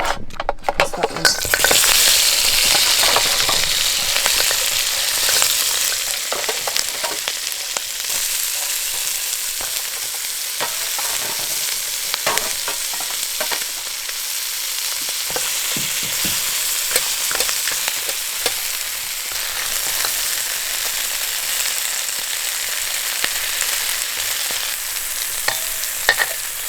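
Dungeness crab and other ingredients frying in hot oil in a wok for a chili bean sauce dish, a loud continuous sizzle with scraping stirs throughout, close and steady.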